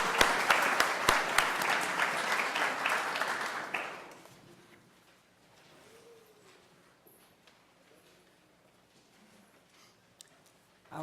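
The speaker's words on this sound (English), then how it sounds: "And then just one more round of applause for everybody." A church congregation at a holiday concert service claps in a full round of applause for four seconds, then it quickly dies away into a quiet room with faint scattered shuffles and small knocks.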